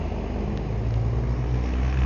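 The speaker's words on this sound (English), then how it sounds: "No, that's not a semi, that's a flatbed Ram 3500" A flatbed Ram 3500 truck hauling a tractor rumbles past, a loud steady low engine drone close by with no pause.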